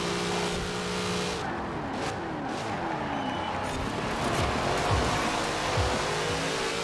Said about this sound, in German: So, jawohl, die C5 voll im Drift.